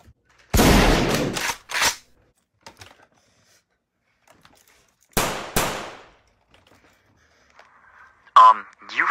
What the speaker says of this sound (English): You forgot to turn off your mic and we hear gunfire.